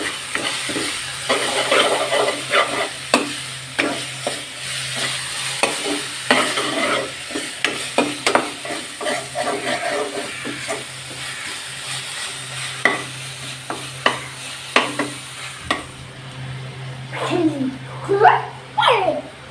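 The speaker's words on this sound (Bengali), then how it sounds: "পেঁয়াজ রসুন ভাজা হয়ে গেছে" Onion and garlic frying in a pan with bay leaf for an egg and potato curry, a soft steady sizzle punctuated by repeated spoon stirring and scraping, with a voice briefly audible.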